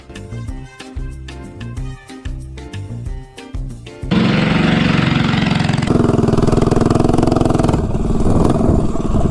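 Honda minibike fitted with a VM22 carburetor: uneven putting bursts at first, then the small engine revs up into a loud, continuous buzzing drone as the bike rides off, heard close throughout.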